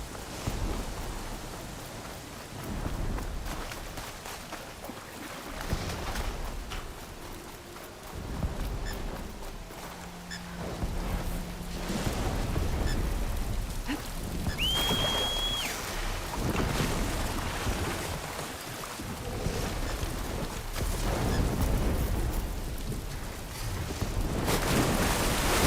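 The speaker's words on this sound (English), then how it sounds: "Storm's not gonna let up." Rain and a thunderstorm on an island in Horizon Forbidden West, a dense, loud, continuous wash of rain and wind with deep rumbling swells and occasional sharp cracks, with no talking.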